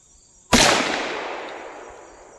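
A Ruger Super Wrangler revolver fires a CCI .22 Magnum round: one sharp, loud crack followed by a long echoing decay that fades over about two seconds outdoors.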